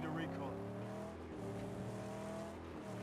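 A car in the Mad Max video game drives with a steady, humming engine drone that rises and falls in pitch, continuous and fairly prominent over the short stretch.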